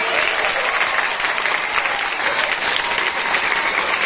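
An audience claps continuously, a dense, even wash of many hands that stays loud for the whole stretch with no pauses.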